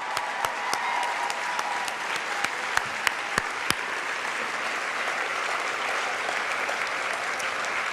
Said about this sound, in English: I really would like you to join me in giving the Odyssey staff a warm round of applause.